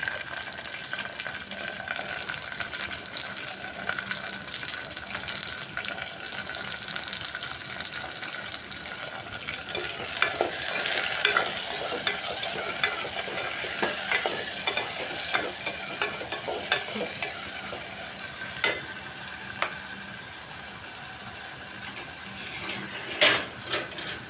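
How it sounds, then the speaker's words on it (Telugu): Onions, green chilies and tomatoes fry and sizzle steadily in a pan for the whole stretch, with a brighter burst of hissing around the middle and a few sharp clinks of stirring near the end. "ఉల్లిపాయలు వేసుకొని ఇప్పుడైతే టమాటాలు కూడా వేసుకుంటున్నాం."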